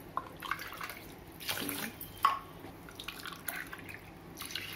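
Water is poured onto basmati rice in soft, intermittent splashes and trickles, quiet and close, with brief pauses between pours.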